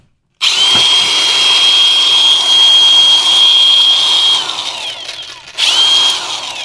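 A Milwaukee BLSAG100X brushless cordless angle grinder rated to 11,000 rpm spins up close and loud with a steady high whine, winds down briefly, then revs up again.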